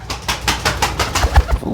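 A pet pigeon coos in several soft, rhythmic throaty pulses at close range, with faint wing rustling and no talking.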